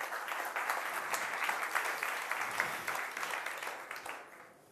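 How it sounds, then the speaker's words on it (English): An audience at a Unite Berlin 2018 conference session applauds, a dense patter of clapping that holds steady for a few seconds and then fades out, with no talking over it. "Let's give him a round of applause."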